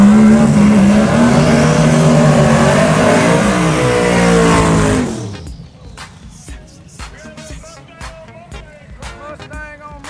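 A second-generation Ford Mustang race car at Xtreme Raceway roars loudly up close as it revs and accelerates hard, then the engine note drops away into the distance, leaving quieter background clatter and faint voices.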